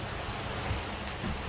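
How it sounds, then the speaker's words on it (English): Steady rain falls outside, a dense, even hiss of drops on surfaces with no voices, constant and moderately close throughout. "That there is the rain"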